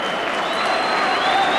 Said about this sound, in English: Getting a great round of applause from the Rangers support.